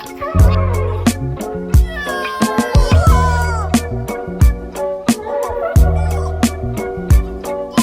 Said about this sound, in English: I'm here with the kitty today because he wants to be a needy freak.